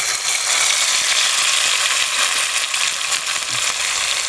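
Mustard seeds, cumin and a ground chutney paste sizzle loudly in hot oil in a pan for a vada pav filling, with a dense, steady crackling hiss and scattered sharp pops close up, alone without voices.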